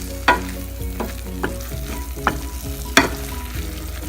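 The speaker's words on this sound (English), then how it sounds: "We keep breaking it as we're cooking so it doesn't form lumps." Keema minced meat sizzles and fries steadily in a pan while a utensil breaks it up, with repeated scraping and stirring knocks over the continuous hiss, close and fairly loud.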